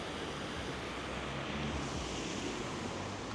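Steady wind blowing on the coast at Saint-Nazaire, France, a soft continuous rush with surf-like texture and no pauses throughout.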